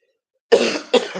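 A person coughs twice in quick succession after a moment of silence, loud and close, with harsh throaty bursts and no speech.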